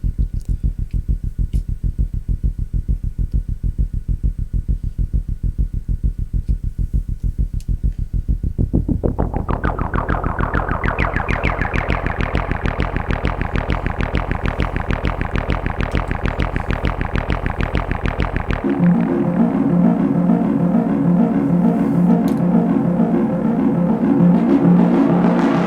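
Synthesizer plugin sounds played on an MPC, a loud pulsing distorted synth with a steady throbbing rhythm that shifts to a brighter, fuller tone and then to a warbling, chorused texture, all without voices.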